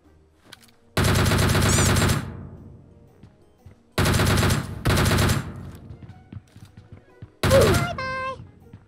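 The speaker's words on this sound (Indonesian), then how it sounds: "Eh, berapa orang sih itu yang nembakin? Gak lihat dari mana nembak." Enemy players fire automatic guns in a video game match, three or four loud, separate bursts of rapid gunfire with short quiet gaps between them, and faint game sounds in the pauses.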